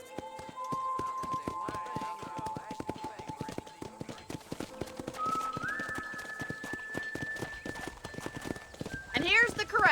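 Horse hooves clip-clop at a steady, brisk rhythm on a ranch in the video game Red Dead Redemption, with a whinny near the end, over music and speech.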